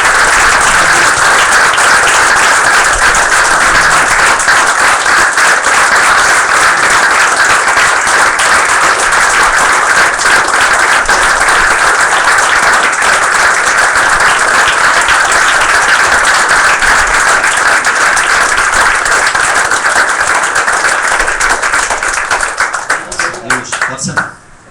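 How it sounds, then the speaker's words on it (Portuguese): Church congregation applauding loudly and steadily for about twenty-four seconds, a dense wall of clapping with voices mixed in, fading out at the very end. "Vamos aplaudir Jesus?"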